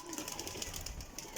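Faint, low cooing from breeder pigeon pairs in a loft, soft repeated calls heard at a distance against steady background noise, with no talking.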